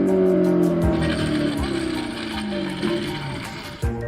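A Corvette C8 engine revs hard and high while stuck in first gear, with tire squeal and skidding noise, loud and close, ending with a sudden knock.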